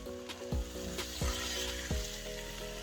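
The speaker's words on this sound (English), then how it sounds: "So I've been cooking that, frying that for about 5 minutes on this side" A rohu fish head fries in a pan with a soft, steady sizzle, and a few knocks at roughly even intervals stand out above it; quiet overall with no talking.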